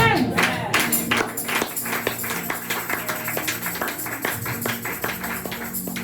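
A church congregation claps in a steady rhythm, the crowded, busy clapping going on throughout under a preacher's voice and other voices.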